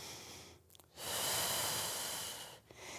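One long, slow breath during a Pilates mat twist, heard close up as a soft airy rush that swells, holds for over a second, then fades, framed by quieter intakes.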